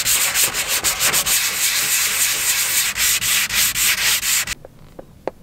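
Hand sanding with 240-grit sandpaper, a loud close run of brisk back-and-forth rubbing strokes that stops abruptly, leaving a few faint knocks.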